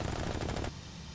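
Rapid machine-gun fire from a Bf 110 in the IL-2 Cliffs of Dover air combat game rattles in a fast, even burst, then cuts off abruptly, leaving a quieter engine drone.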